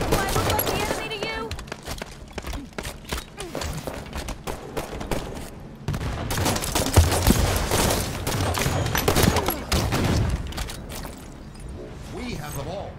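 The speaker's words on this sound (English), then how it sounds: "Shots fired on red two" Rapid gunfire bursts in Halo 5 multiplayer, dense and continuous over a busy mix of game effects with thumps and footsteps, staying loud throughout.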